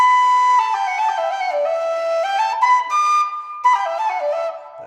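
A very loud MK whistle plays a clear, piercing run of notes, stepping up and down in pitch, loud and close, with short breaks between phrases.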